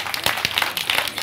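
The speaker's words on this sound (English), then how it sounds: "Give her a big round of applause." Audience applause at a live business event: a brief burst of scattered hand claps from a room of people, irregular and moderately loud, with no talking over it.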